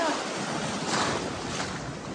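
Ocean surf breaking at the beach on Hunting Island during boogie boarding, a steady loud wash of waves with wind buffeting the microphone throughout.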